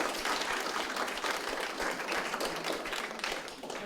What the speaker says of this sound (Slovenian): Tudi za njih en aplavz